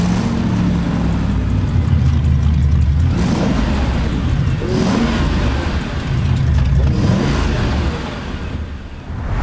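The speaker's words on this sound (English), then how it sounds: "I take this car, start the engine" Mercedes G-Class engine, loud and close, revving up in repeated bursts with a deep throaty roar rising and falling over several seconds, no voices.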